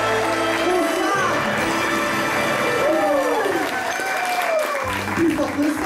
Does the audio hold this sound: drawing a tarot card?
no